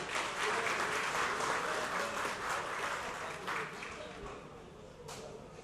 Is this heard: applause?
yes